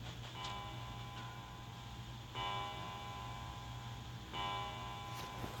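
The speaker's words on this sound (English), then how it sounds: "He heard a bell begin to ring. It was the clock at the central staircase." A clock bell on the central staircase in the video game 999 rings out in three resonant strikes spaced about two seconds apart, each tone sustaining over a steady low hum with no talking.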